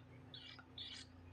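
Two soft, high bird chirps sound a moment apart over a low steady hum, faint and close by.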